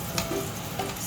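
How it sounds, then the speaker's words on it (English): Butter melts in a frying pan for pancakes with a soft, continuous close sizzle, brief and even, with no voices. "Let's put the butter in the pan now."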